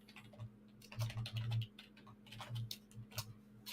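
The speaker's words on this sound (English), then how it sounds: "Typing too fast." Fast typing on a computer keyboard, a quick irregular patter of close, crisp key clicks with bursts and short pauses over a steady low background hum.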